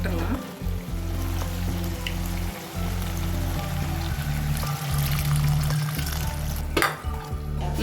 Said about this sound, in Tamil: புளி தண்ணி விட்டுடலாம்